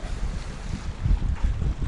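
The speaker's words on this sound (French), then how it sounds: "Belle rafale." A strong gust of wind buffets a sailboat at anchor off Vathi, Ithaca, a rough, rumbling wind noise that swells and surges with faint lapping water beneath.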